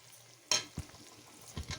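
Flour stirred into fried peanuts and sesame in oil, with a faint low sizzle and a sharp scrape followed by a few soft stirring knocks, quiet and close.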